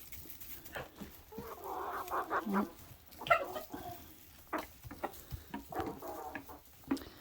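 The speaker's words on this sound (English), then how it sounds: "I think the coolest thing about chickens is that they just do their chickeny thing, but they're entertaining to watch." Backyard chickens cluck and murmur softly around a person doing morning chores, with scattered short calls at close range, faint overall.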